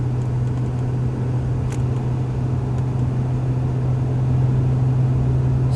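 A BMW N55 engine fitted with a VRSF catted downpipe hums in sixth gear while climbing a small hill, a steady low drone inside the car, constant and moderately loud with no talk.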